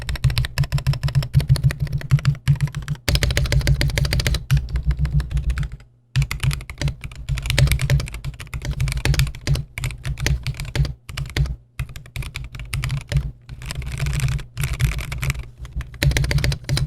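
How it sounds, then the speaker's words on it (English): Continuous typing on a Montech MKey TKL mechanical keyboard with brown Gateron switches, with steady, soft, muted key clacks and a brief pause partway through. No voices. "it has the brown Gator-on switches, which I think sound nice"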